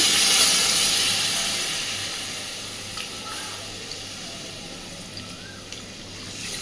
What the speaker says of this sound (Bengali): এইবার দিয়ে দেবো পরিমাণ মতো জল শিল ধোয়া জলটাই এখানে দেব আমি